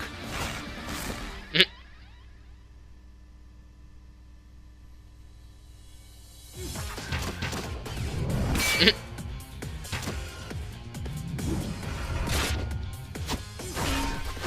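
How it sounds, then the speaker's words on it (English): Arrow-shooting effects from an animated superhero battle between archers: sharp snapping whooshes and impacts punctuate a score and clashing action, with a loud strike near the start and another later amid dense, busy effects. "The arrow shooting sound that they're using."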